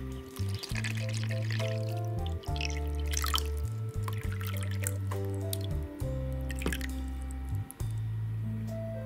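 Distilled water pours and splashes into a container in bursts, with wet dripping and gurgling throughout at close range.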